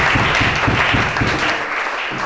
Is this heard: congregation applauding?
yes